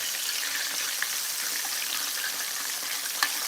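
Gluten-free chicken coated in cornstarch frying in hot oil, a steady close hiss and crackle with small pops, no voices over it.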